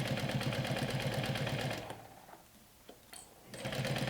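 A sewing machine runs steadily along a backpack seam an eighth of an inch from the edge, a loud continuous rattling whir that stops for a moment, leaving a few faint clicks, then starts again.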